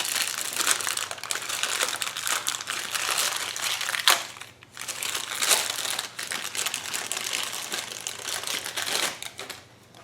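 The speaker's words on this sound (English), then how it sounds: "The fuel pump comes in a plastic bag." A plastic bag holding a generator fuel pump crinkles and rustles continuously up close, busy crackling handling with a short pause midway, no voices.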